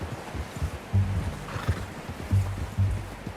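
A horse in Red Dead Redemption 2 whinnies in short repeated bursts while hooves clop nearby, with a faint background hush and no talking.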